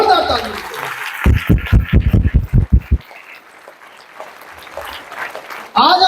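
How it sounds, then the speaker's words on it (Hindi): An audience at a talk breaks into loud applause, a brief burst of sharp, rapid claps lasting under two seconds, with someone speaking before and after it. "इन चारों महान हस्तियों के लिए एक जोरदार ताली।"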